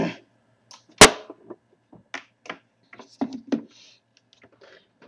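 The top part of a G.I. Joe toy mech suit being cracked off, one sharp close snap of plastic followed by scattered small clicks and handling noises.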